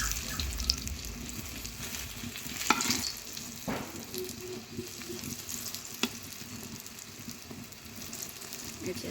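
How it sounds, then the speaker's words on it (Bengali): Brinjal (eggplant) slices frying in a pan at home, a continuous close sizzle with occasional clinks and light stirring, steady and moderately quiet, no talking. "আর এখানে হচ্ছে বেগুন ভাজা করতেছি"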